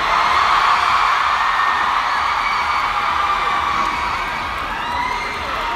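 A large fan-meet crowd in a Manila venue yells and cheers continuously, a dense, loud wall of shrieks and whoops that holds steady before easing slightly toward the end.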